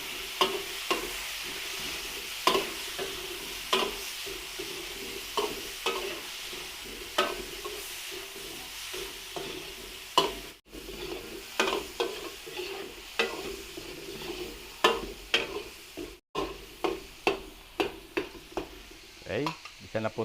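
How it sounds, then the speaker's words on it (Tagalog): Chicken pieces sizzle steadily in hot oil in a pan while being stir-fried, with repeated close scraping and clacking strokes of the spatula over a constant hiss, and no talking. "Sangkutsahin muna natin yung manok."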